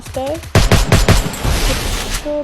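Rapid bursts of automatic gunfire from the Free Fire battle royale game in a ranked match, a quick string of loud shots up close, with a voice talking over them before and after.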